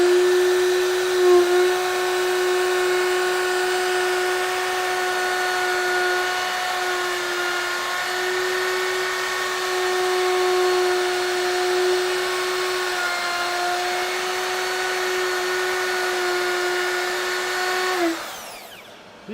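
A power tool router cuts a three-quarter inch roundover along the edge of a bespoke wooden table, a steady high whine running loud and unbroken for about eighteen seconds before spinning down at the end.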